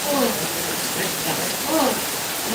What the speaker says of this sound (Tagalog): Dire bunok kayong ulan dire.